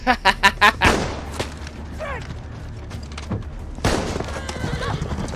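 A horse whinnies loudly after a run of rapid hoofbeats, followed by shuffling, creaking movement and another burst of noise close by.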